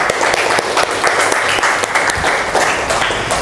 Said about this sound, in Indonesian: Beri tepuk tangan untuk Renar.